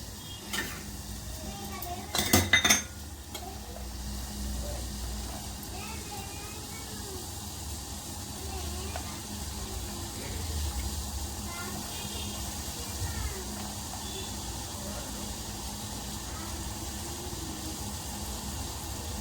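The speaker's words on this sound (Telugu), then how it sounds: "నీళ్ళు మరుగుతున్నాయి చూడండి." Water boiling in a pot on the stove, a steady bubbling hiss that runs the whole time, with a couple of sharp utensil clanks near the start.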